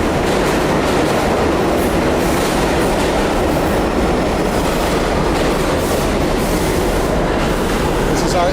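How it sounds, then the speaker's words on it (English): A New York N subway train rumbles steadily along the rails, a loud, dense roar with faint rhythmic clatter and a thin squeal, heard from inside the rear car. "This is our N train."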